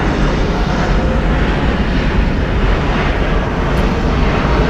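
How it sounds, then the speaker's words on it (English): Loud, steady roar of airliner jet engines at Atlanta's Hartsfield-Jackson airport, a broadband rumble holding constant throughout with no talk. "Engine noises, definitely giving us comfort."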